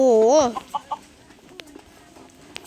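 A chicken in a survival video game gives a short run of clucks near the start, then only sparse faint clicks and game sounds follow.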